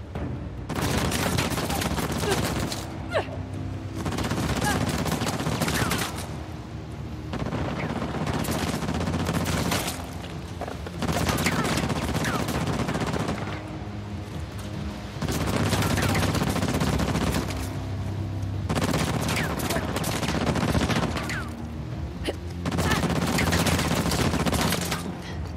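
Repeated bursts of rifle fire in Uncharted: The Lost Legacy, loud and close, coming in sustained volleys of roughly three to four seconds separated by brief lulls across the whole stretch.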